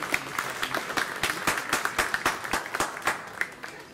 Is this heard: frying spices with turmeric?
no